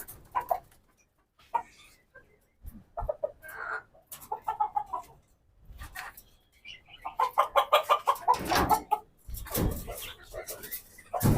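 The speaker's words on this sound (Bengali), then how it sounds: "এই যে এই পাকিস্তানি মুরগিটা এটা ডিম দেয় না" Pakistani-breed hens in a coop cluck in short, uneven bursts close by, with a rooster-like call rising near the end, while a person talks intermittently among them.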